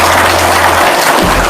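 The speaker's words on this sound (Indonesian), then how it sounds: "Tepuk tangan dong, luar biasa." Loud, dense clapping from an audience at a sales seminar, a continuous close roar with a low hum underneath that drops out partway through.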